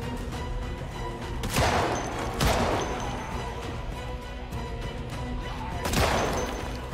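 Gunfire in Project Zomboid: three loud, widely spaced shots ring out with sharp cracks and short echoing tails over a steady background hum, with no talking.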